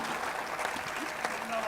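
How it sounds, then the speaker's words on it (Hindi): A crowd applauds at a Hindi comedy poetry gathering (kavi sammelan), a dense, steady wash of clapping that fills the short moment with no voices on top. "और ताली तो अब इस बात पे बजा देना कि शादी के 10 साल बाद भी अपने इसी वचन पे कायम है।"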